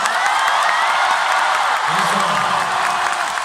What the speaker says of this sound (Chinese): 这个是热烈的掌声，我要的是非常热烈的掌声